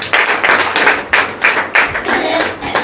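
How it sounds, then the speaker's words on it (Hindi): A church congregation at a Christian prayer meeting claps together in a steady, loud rhythm, with the close, dense hand claps repeating in even beats. "ताली बजा दो भाई।"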